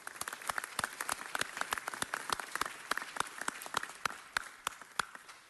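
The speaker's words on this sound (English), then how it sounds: "May we give them a big round of applause." An audience at a Persian New Year event in Los Angeles claps for two honorees, scattered distinct claps in a sparse, fairly quiet round.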